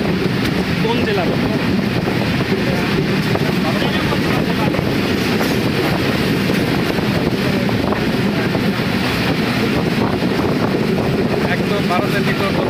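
A passenger train rolls near the Hili land port on the Bangladesh–India border, giving a steady, close rumble of wheels and carriages throughout, mixed with wind buffeting the microphone.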